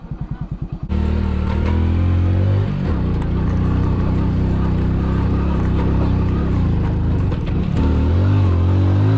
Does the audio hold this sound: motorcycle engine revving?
yes